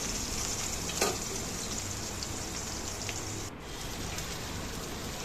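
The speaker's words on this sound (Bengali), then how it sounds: "এবার পেঁয়াজ কুচিগুলো ঢেলে দিলাম।" Chopped onions sputter in oil in a wok over cumin tempering, a dense, even hiss like light rain, fairly quiet and constant with a brief tap early on.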